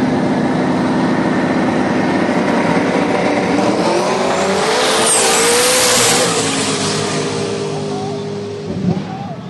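Turbocharged drag racing cars accelerate on a qualifying pass at a drag strip, a loud continuous engine roar rising in pitch and then fading, with an announcer talking over it.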